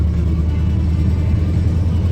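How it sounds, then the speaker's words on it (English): A 1985 Chevrolet K10 runs with a steady, close engine rumble and the rough rasp of an exhaust leak. The noise holds at an even level over a short stretch, with no voices. "That exhaust leak's gonna drive me crazy."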